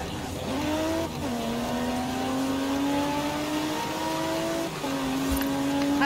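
A car engine revs hard in a Forza Horizon 4 drag race, a steady loud rising whine broken by two quick gear shifts.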